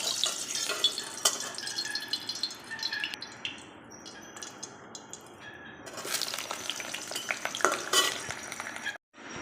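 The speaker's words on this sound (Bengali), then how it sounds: "দেখছেন তেল গরম হয়ে গিয়েছে, এবার বেগুনগুলো একে একে ভেজে নেব।" Eggplant slices frying one by one in hot oil in a home kitchen, a steady crackling sizzle with scattered sharp pops and occasional stirring and utensil clatter, close and alone without talk.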